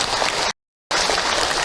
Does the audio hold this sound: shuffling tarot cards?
no